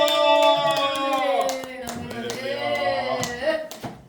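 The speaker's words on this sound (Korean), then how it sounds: "자, 우리 목사님을 박수로 맞이하겠습니다." A church congregation claps to welcome the pastor, a scattered patter of hands running under a loud sustained voice or tonal music throughout.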